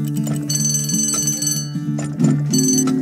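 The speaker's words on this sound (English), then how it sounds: "I hate that alarm, just like my alarm in the morning." An electronic alarm rings in the video game Turmoil, a loud, insistent repeating tone pattern pulsing in short bursts throughout, with bright ringing overtones and no voices.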